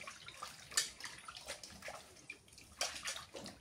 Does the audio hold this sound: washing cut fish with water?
yes